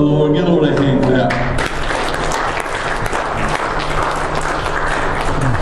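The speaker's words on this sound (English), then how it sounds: "give the Lord a hand clap" Congregation clapping in church during a Christmas communion service, dense steady applause mixed with voices and music throughout.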